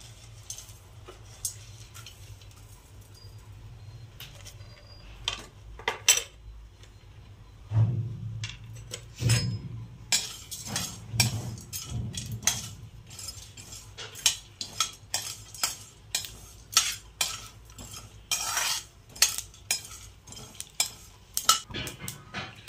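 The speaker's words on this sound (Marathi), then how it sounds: "ही चना डाळ आपण थोडीशी भाजून घेणार" Chana dal roasting in a pan, stirred with a spoon or spatula: repeated metallic clinks and scrapes come in uneven bursts, fairly close, with no talking over them.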